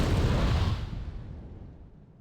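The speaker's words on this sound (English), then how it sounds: "the Aardvark's coming back in for some more. Bombing everything." A large explosion from an Aardvark aircraft bombing run in a strategy video game, a loud broadband boom that fades out over about two seconds.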